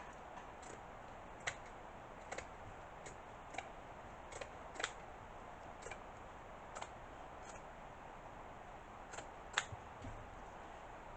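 Scissors cutting fabric into thirds for a patriotic wreath, a series of quiet, crisp snips spaced a second or so apart, close and alone.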